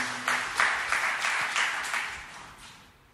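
A church congregation claps together in a brief burst of applause with a few rhythmic peaks, then fades away over a few seconds.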